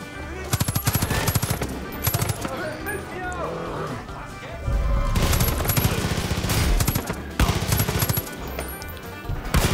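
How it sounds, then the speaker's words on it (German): Rapid machine-gun fire rattles in bursts throughout a Far Cry 5 firefight, with loud repeated gunshots, background game sounds and a voice talking over the action. "Irgendwie von da wird geschossen."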